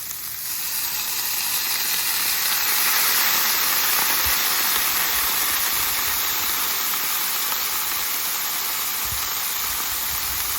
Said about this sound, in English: It's helping steam up this cabbage here.